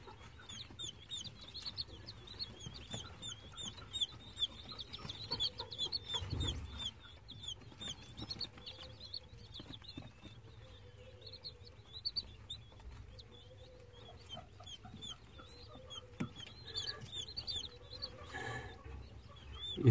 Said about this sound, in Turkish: Üşüyen Çin bıldırcınları